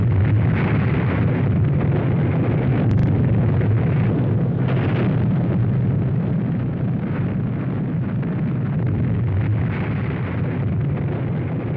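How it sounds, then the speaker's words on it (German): Fat Man, the plutonium atomic bomb, detonating over the port city of Nagasaki: a loud, sustained low rumbling roar with no break for about twelve seconds, heard alone with no voices. "Zwei Tage später werfen die USA die zweite Atombombe Fat Man über der Hafenstadt Nagasaki ab"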